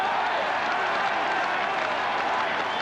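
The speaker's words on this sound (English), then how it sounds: "A roar from the crowd acknowledging that he is" A packed football stadium crowd in 1975 roars as a player steps up to take a penalty, a broad sustained wash of cheering and applause that stays loud and even throughout.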